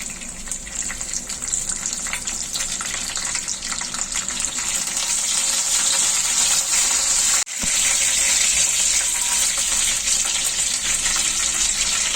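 Mustard seeds and curry leaves crackle in hot oil with a steady, loud, dense sizzle that runs continuously, broken by one brief dropout partway through.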